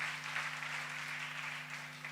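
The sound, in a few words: audience applause at live theater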